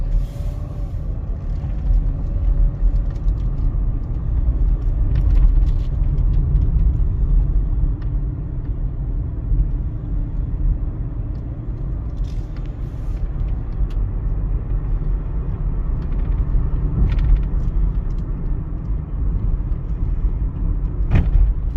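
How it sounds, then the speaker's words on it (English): A 2009 Chevy Cobalt with new wheel bearings, a new axle and a different front tire drives on a test run, a steady low road rumble and engine drone from inside the cabin throughout. "Taking it on a test drive with the new wheel bearings, new axle, and a different front tire on it."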